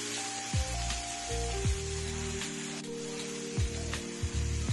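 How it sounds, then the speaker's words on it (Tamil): Prawns and tomato sautéing in a pan for a prawn gravy, a soft, steady sizzle and crackle under a faint tonal hum, quiet and close. "இது போட்டு நல்லா வதக்கணும்."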